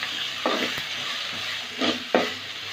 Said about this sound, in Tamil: இஞ்சி பூண்டு பேஸ்ட் வந்து ஆட் பண்ணுறோம். இஞ்சி பூண்டு பேஸ்ட் நல்லா